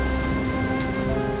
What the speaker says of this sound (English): The rhythm of droplets on the pavement echoes through the city's desolate alleyways